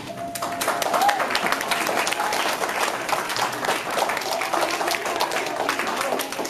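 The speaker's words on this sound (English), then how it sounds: "Y'all please give them a big round of applause." A crowd gives a big round of applause in a room, steady moderately loud clapping from many people that continues for several seconds, with a brief faint voice near the start.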